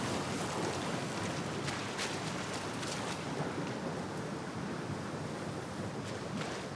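A waterfall in the video game Dragon Age: The Veilguard roars as a steady, dense broadband rush that stays loud and unbroken throughout, with no voices over it.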